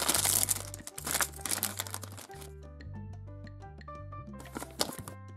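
A plastic surprise packet for a toy is crinkled and torn open in bursts of crisp rustling, close up, over soft background music with a quiet pause in between.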